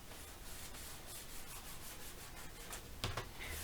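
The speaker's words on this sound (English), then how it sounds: "I'm burnishing it lightly with my fingers" Fingertips lightly burnishing paper onto the spine of a wedding mini album, a soft, continuous dry rubbing with a faint scuff near the end, quiet and close.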